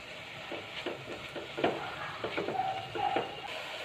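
Ginger garlic paste and curry leaves in a pan with onions for a green peas coconut masala curry: a steady close sizzle with regular scraping stir strokes and a couple of louder spatters.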